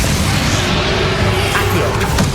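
A Leviosa levitation spell cast during the final boss fight with Ranrok in Hogwarts Legacy, a steady, dense magical whoosh and rumble held loud throughout over a constant low battle roar.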